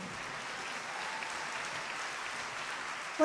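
A festival audience claps during an evening show, a faint, distant wash of steady applause that holds evenly for a few seconds without voices on top.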